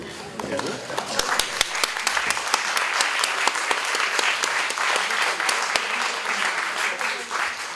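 A crowd applauds steadily, dense clapping filling the room, with a few sharper individual claps standing out and faint voices beneath.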